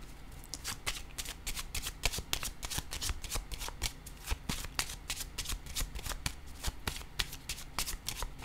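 Tarot cards being riffled and shuffled by hand, a quick, close, even run of crisp flapping snaps repeating throughout, with no talk.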